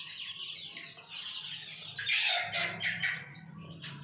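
Chickens on a rooftop poultry farm cluck and squawk close by in an uneven, overlapping chorus, louder in the middle stretch, with no talking.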